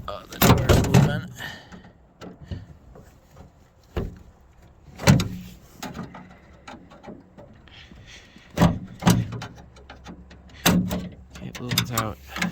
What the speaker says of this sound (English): Oh, the door's moving.